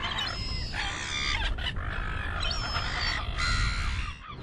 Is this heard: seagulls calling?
yes